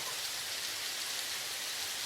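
Steady rain falling, a dense even hiss of drops with no voices, constant in level throughout.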